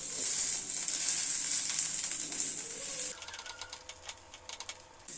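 A sesame-seed-coated snack fries in a pan, giving a bright crackling sizzle that is loud at first and then breaks into sparser pops and spits as it is pressed down, with no voices.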